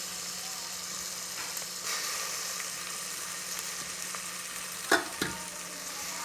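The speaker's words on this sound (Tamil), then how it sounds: "இஞ்சி பூண்டு பேஸ்ட் சேர்த்து அதையும் வதக்கிடுங்க" Onions with ginger garlic paste sautéing in a pan for Tamil coconut milk rice, a steady soft sizzle with a couple of brief utensil clinks near the end.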